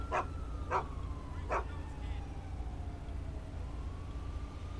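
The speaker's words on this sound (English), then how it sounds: "you'll see if the dog alerts to the vehicle" Police dog in the LSPDFR game barking at a stopped vehicle: three sharp close barks in quick succession over a steady engine idle hum, then the idle continues alone.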